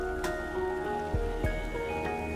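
Contaminated rain falling in the post-apocalyptic survival game Endzone – A World Apart: a soft steady patter of drops beneath sustained musical tones, with a few sharper taps.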